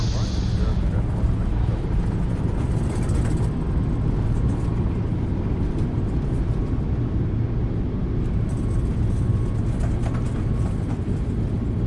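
Simulated Boeing 737 MAX 8 reverse thrust on landing in Microsoft Flight Simulator 2020, a loud steady engine roar and rumble filling the whole stretch, with a brief higher whine at the start.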